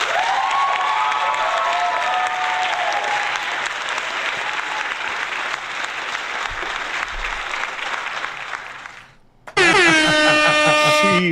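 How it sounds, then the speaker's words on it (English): Applause sound effect played loudly on a live stream, a dense, steady clatter of clapping that runs for several seconds, fades briefly, then gives way to a blaring air-horn blast at the end. "I will say, yes, I overuse the applause"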